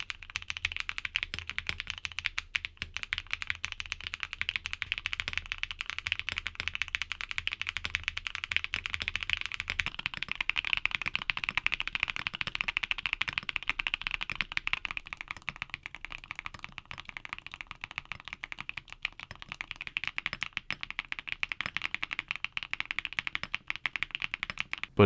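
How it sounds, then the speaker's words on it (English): Mechanical keyboard switches are typed on in a long, continuous run of quick, light clacks and taps, fairly faint and close, with no talk. "here are back-to-back sound tests of the switches we talked about today"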